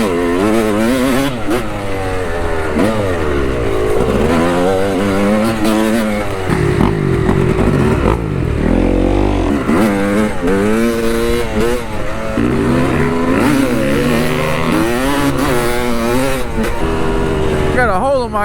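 Yamaha YZ250 and Kawasaki KX250F dirt bikes riding trail laps, engines revving and shifting pitch loudly and continuously throughout, with voices talking over the engine noise.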